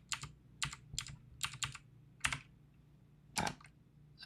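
Computer keyboard typing on a Bloomberg terminal, a series of sharp, separate keystrokes with uneven pauses, close and fairly quiet with no talking.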